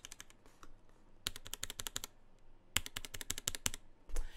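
Fast typing on a Roccat Vulcan 120 Aimo RGB keyboard with custom soft key switches, close and crisp, in two quick bursts of light clacking keystrokes with a short pause between.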